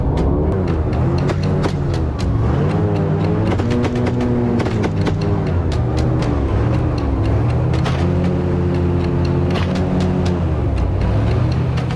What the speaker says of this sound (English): This boat has an engine that is a giant fan that creates a great force